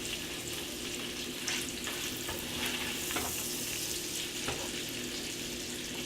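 Chorizo fries in a pan for frijoles a la charra, a dense, close and continuous sizzle with faint stirring and no voices.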